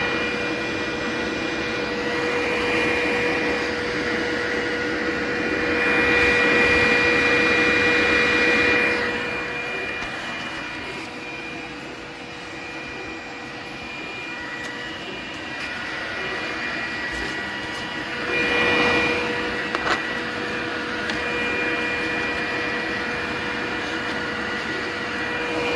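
A Glowforge laser cutter's air filter fan running steadily nearby, a constant whooshing drone with a fixed whine, swelling and easing in places over about half a minute, with no talking.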